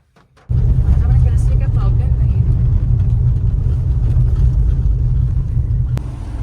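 A car's engine and road rumble hold steady and loud from start to finish, a continuous low drone heard from inside the moving vehicle, with no talking.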